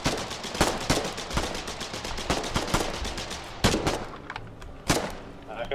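Rapid bursts of gunfire hit a creature in Aliens: Colonial Marines, with sharp, loud cracks and automatic rattles coming in uneven volleys, some shots much louder and closer than others, while voices talk between the shots.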